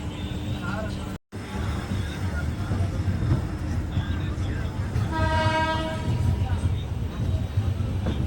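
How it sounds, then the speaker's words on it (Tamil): The 12694 Muthunagar Superfast Express sits at Thoothukudi station about to depart toward Chennai. A steady, loud rumble of rail and engine noise fills the scene, voices can be heard in it, and a horn blast sounds near the end. "இன்னும் கொஞ்சம் நேரத்தில் ட்ரெயின் எடுக்க போகிறாங்க"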